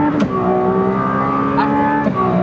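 A Ferrari F80 engine revs hard under acceleration, a loud sustained roar rising in pitch with brief shifts, heard from inside the car.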